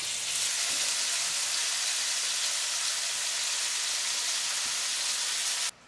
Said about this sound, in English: we're going to throw the chicken in the skillet